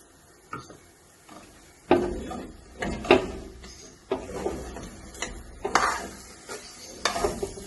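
Ripe mashed banana is stirred in ghee in a pan for a flourless banana cake, giving soft sizzling beneath a series of scraping, clattering spoon strokes against the pan, close and moderately loud with no voices.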